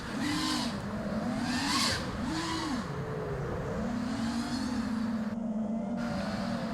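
FPV quadcopter drone with fast-varying motor whine as it flips and rolls, pitch swooping up and down continuously, loud and close throughout with no voices.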